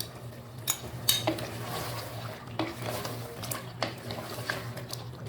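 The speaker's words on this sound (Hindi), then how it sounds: "अब हमने जो दही लिया था 4 चम्मच, वो हम दही डाल रहे हैं इसमें।" Yogurt being added and stirred into mutton in a pot for biryani, spoon clinks and scrapes against the metal pot over a soft sizzle and a low steady hum, with irregular knocks.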